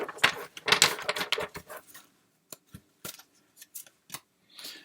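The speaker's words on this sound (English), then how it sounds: "One more shuffle." Tarot cards shuffled by hand: a dense burst of papery riffling and flicks over the first two seconds, then a few sparse, isolated card snaps and taps, close and fairly quiet.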